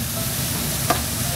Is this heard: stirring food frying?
yes